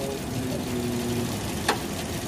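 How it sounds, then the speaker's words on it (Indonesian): A used Toyota Vios Limo, a former taxi, idles steadily with a low, even engine rumble and a faint mechanical hum, plus one brief click near the end. "Kalau mesin tuh sebenarnya bisa dilihat dari suaranya ya. Suaranya masih enak"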